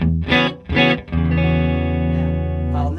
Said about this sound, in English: Now I'll turn the reverb off.